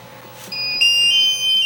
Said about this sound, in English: That's the alarm that goes off if ever there's a problem.